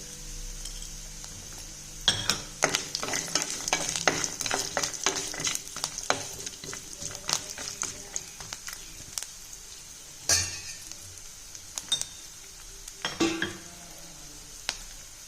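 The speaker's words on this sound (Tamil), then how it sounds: "அடுத்து முந்திரி பருப்பை சேர்த்துக்கிறேன்" Cashew nuts tumble into a pan and get stirred while making kuthiraivali (barnyard millet) ven pongal with pepper, giving near, busy scraping and clinking strokes with a light sizzle underneath and a few sharper knocks of the spoon against the pan.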